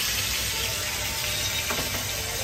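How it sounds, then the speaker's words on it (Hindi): Pieces of surmai fish fry in a pan, giving a steady, soft, close sizzling hiss that holds evenly throughout with no talk over it. "भावरा फ्राय होते"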